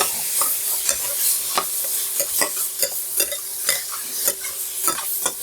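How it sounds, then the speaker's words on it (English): Pork sears in a hot wok with a constant bright sizzle, punctuated by regular clacking strokes of a spatula stirring and tossing the meat, close and without speech. "I need to heat up the wok and then cook the meat first."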